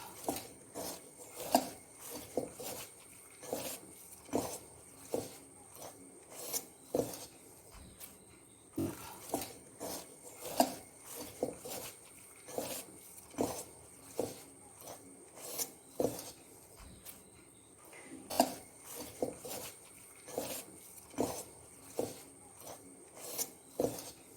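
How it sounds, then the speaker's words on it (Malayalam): Shredded cabbage being mixed with salt by hand for a Kerala-style dish, giving a steady, repeated soft rasping and crunching rhythm of close squeezing and rubbing strokes, with no talk. "ഇത് കൈകൊണ്ട് തന്നെ നമുക്ക് നന്നായിട്ടൊന്ന് മിക്സ് ചെയ്യണം"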